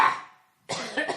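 A single harsh cough from a man with whooping cough, followed after a brief pause by another rough cough burst, close and loud with no talking.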